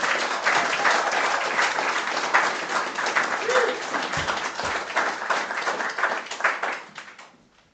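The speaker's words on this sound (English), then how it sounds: "let's have a rousing round of applause for these gifted young people" A church congregation at a scholarship Sunday service gives graduates sustained, dense applause that stays steady for several seconds before tapering off, with a few cheers mixed in.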